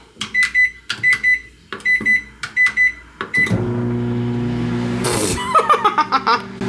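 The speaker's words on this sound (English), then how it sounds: "Oh God, I can never remember how to work their microwave." Several quick beeps from a keypad give way to a steady microwave hum that runs for a few seconds, then a chime and clatter.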